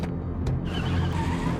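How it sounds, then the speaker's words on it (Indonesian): Cars in a tense chase scene from the action film Unstoppable, with a loud, continuous rush of engine and tire noise and a brief skidding screech near the start, no talk over it. "Lalu aksi kejar-kejaran pun terjadi cukup menegangkan."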